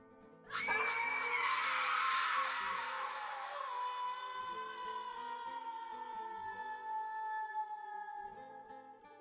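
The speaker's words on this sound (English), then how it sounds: "At that moment, a ghostly scream came from everywhere." A ghostly scream from within a gold mine in a Wild West horror tale bursts in loud and sustains as a long, wavering wail, then trails off slowly over several seconds with no talking.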